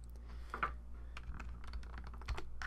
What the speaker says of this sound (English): I'll just use that keyboard shortcut